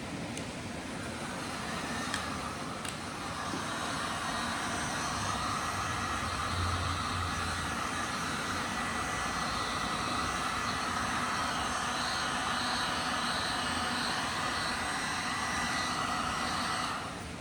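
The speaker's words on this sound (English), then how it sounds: "use the heat gun today rather than the hairdryer." A heat gun dries a rebuilt cylinder head, giving a steady, loud blowing roar that holds constant for the whole stretch with no talking.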